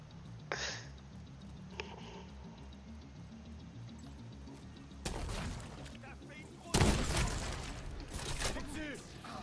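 A pistol fired in The Division 2: a few sharp shots spaced apart at first, then louder, denser volleys later, under quiet game ambience and someone talking.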